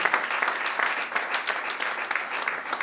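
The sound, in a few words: congregation applause, clapping for Jesus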